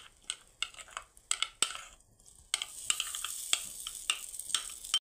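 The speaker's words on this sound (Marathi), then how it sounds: "तर आता मुगाची डाळ इथे पूर्ण मोकळी होईपर्यंत आपल्याला परतून घ्यायचे आहे" Ground moong dal being sautéed in roasted gram flour, with quiet scraping stirs and clinks of a spoon against the pan in irregular bursts, then a soft continuous sizzle joining in, close and faint.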